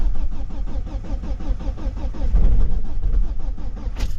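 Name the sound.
Ford Galaxy car engine being started in cold weather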